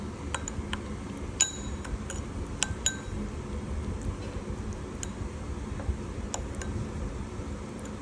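A spoon mixes soy sauce into a dumpling bowl, giving a few light glassy clinks against the bowl over steady low background hum, with no talking.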